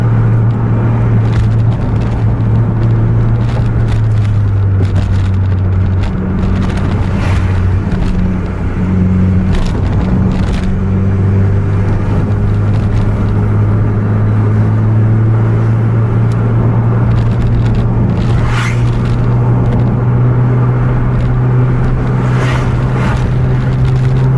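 A Volvo bus engine drones steadily and loudly while driving on the road at speed, a deep constant hum with rumbling road noise and occasional rattles throughout, and no voices.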